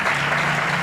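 Brief burst of dense audience applause at a live radio show recording in Bilbao, loud and close, a continuous wash of clapping with no voices.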